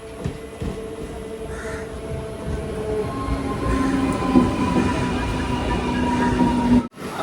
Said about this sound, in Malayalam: 10:31 പോകാനുള്ള വണ്ടി ഇതാ കടന്നു വരികയാണ്